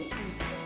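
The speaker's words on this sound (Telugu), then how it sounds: "కరివేపాకు వేస్తాం." Curry leaves hit hot oil while mango semiya pulihora is being made, giving a brief, close, steady hiss of sizzling that lasts under a second.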